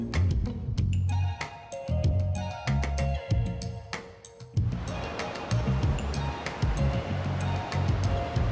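Surf rolls onto the beach at Longboat Key near Sarasota, Florida, a continuous wash of breaking waves with rising and falling swells, heard close and fairly loud with no talking.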